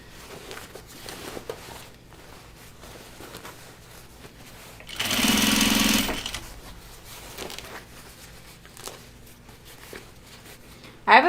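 A sewing machine needle stitches through a laundry basket handle in a loud, rapid burst of about a second, set between quieter handling noises and some speech.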